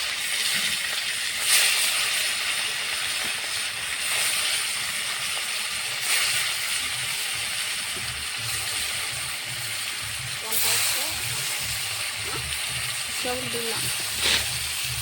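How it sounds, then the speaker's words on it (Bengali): Small hilsa fish fry lightly in mustard oil in a wok, giving a loud, even hissing sizzle throughout with a few brief surges and faint background voices. "মাছটা আমি হালকা করে ভেজে নেব, কড়া করে ভাজবো না।"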